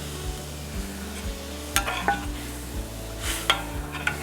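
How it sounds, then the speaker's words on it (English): Milk poured slowly into a hot pot of crawfish mac and cheese brings a soft sizzle and stirring, with a few light utensil taps against the pot over a steady low hum. "We're going to add that cup of milk in slowly."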